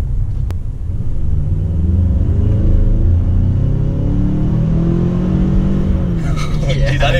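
A 2019 Ford Ranger pickup truck accelerates hard from inside the cab, its engine rumbling loud and deep with rising revs, while a voice talks over the engine noise.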